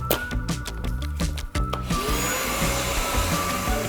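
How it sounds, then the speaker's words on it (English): A Sun Joe vacuum cleaner runs with a loud, whining motor drone, preceded by a quick series of clattering knocks and bumps before the steady suction noise settles in. "Vacuum. It sucked. Quite literally."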